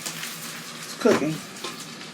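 Savory salsa chili bubbles and sizzles in a single pot on the stove, a soft steady simmer with a brief louder stirring scrape partway through.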